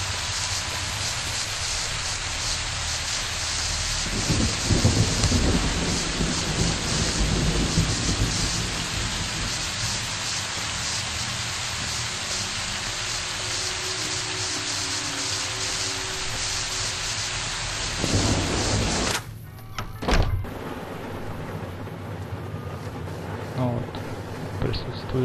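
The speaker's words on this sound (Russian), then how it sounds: "Как бы дождь барабанит по крыше" Steady rain drums on a roof in the Fallout: New Vegas game, set in Goodsprings, a dense continuous hiss that persists for the whole stretch, with someone talking over it and a brief cut near the end.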